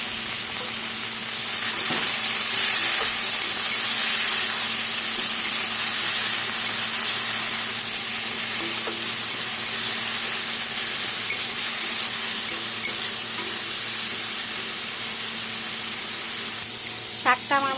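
Red amaranth greens with turmeric and salt cook in a pan, a steady loud sizzle and hiss that runs throughout with faint stirring, a brief voice near the end.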